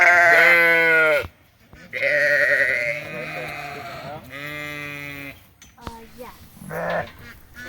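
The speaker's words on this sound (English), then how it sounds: "picking out the lambs so they don't get all trampled when they let the ewes out through the gate" Lambs and ewes bleat loudly and close by in a farm pen, with several long wavering calls separated by brief pauses and a fainter cry near the end.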